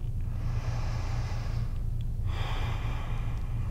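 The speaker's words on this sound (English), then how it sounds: "One more big full breath here." A big, full breath during chair yoga, a long audible inhale followed by a slower exhale, close and breathy over a low steady hum.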